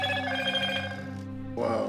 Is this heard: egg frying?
no